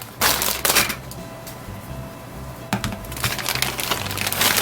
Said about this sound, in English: I'm going to cut open this red bag here.